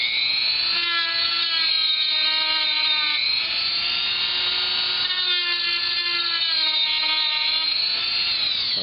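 A Dremel rotary tool cuts into the case of an HP G62 laptop, giving a loud, steady high-pitched whine close up with slight pitch dips as it bites, and no talking.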